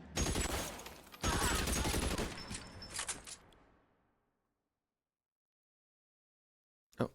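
Rapid bursts of gunfire rattle in a video game, two dense volleys of automatic shots over about four seconds, then silence until one short sharp report near the end.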